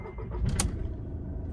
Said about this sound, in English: I'm going to start the car right now.